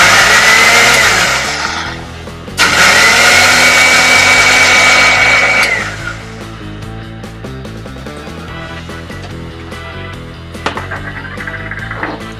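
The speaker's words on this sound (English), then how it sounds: "put them in a blender" A blender blending fresh watermelon whirs loudly for several seconds, stops briefly, whirs again, then gives way to quieter rattling and clinking.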